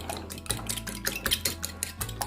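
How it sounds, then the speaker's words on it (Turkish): A whisk beats an egg mixture seasoned with red paprika in a bowl, giving a quick, irregular run of soft clinks and scrapes against the sides over a couple of seconds, close and moderately quiet. "Şimdi bir güzel çırpalım."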